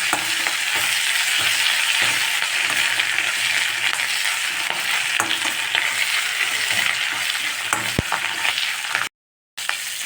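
Drumstick (moringa) leaves sautéed in a pan for rice, giving a steady close sizzle and frying hiss with scattered stirring scrapes throughout, no talking.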